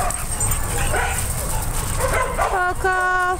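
Several dogs at play give bursts of yips, barks and whimpers in a noisy mixed pack, with steady background commotion and some human voice in the mix.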